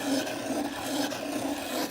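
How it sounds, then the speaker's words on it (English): A continuous, close grinding rasp of a small electric pencil sharpener working on a pencil, steady and moderately quiet. "So you pull it out, stick the pencil inside, and start sharpening."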